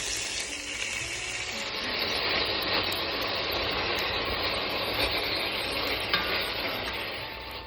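Raw ham dropped into a hot pan sizzles and fries steadily for several seconds, a dense, bright crackle with occasional stirring scrapes, close and continuous with no talking.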